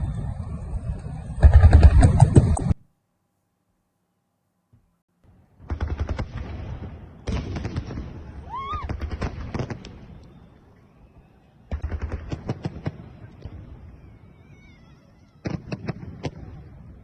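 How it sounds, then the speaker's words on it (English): Fireworks go off up close in Russia, with rapid crackling bursts and sharp bangs in several loud clusters separated by a few seconds of near silence. "let me show you some fireworks up close and personal"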